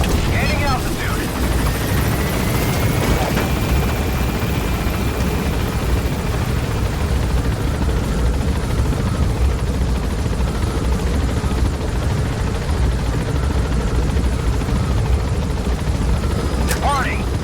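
In the Metal Gear Solid 5 video game, an extraction helicopter climbs after pickup at a base, its loud, steady rotor roar and engine whine continuous throughout, with a few faint whooshes layered on top.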